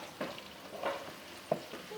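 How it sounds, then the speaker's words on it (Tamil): Curry leaves sizzle and crackle in hot oil, quiet and close, with a few soft stirring taps over a low frying hiss. "இது இங்கே வதங்கிக்கிட்டே இருக்கட்டும்"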